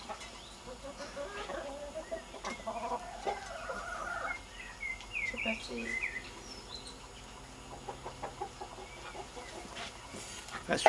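A hen clucks in short, irregular bursts at a farm, close and moderately loud, with faint voices and other farm noise in the background.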